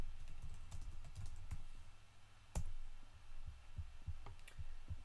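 Computer keyboard keys being tapped out while typing a command in Minecraft, a run of close, soft clicks with one sharper hit midway, over a low steady hum.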